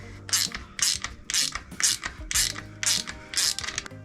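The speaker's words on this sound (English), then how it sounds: "We're gonna go ahead and put the screw back in with this copper washer." A ratchet tightens a screw with a copper washer on the shield of a KTM 1190 motorcycle, giving about eight loud, evenly spaced bursts of rapid clicking, close up.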